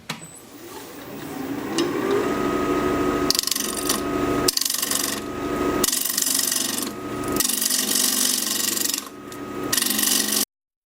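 A 5/8-inch ball gouge cuts a wooden bowl on a wood lathe in bursts of rough, scraping cuts separated by short pauses, over the lathe's steady hum.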